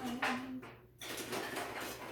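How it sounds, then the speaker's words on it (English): Someone roots through a kitchen drawer of utensils, metal cutlery and tools clinking and rattling in a steady jumble at close range, with a brief lull midway. "Got to root through my drawer of utensils."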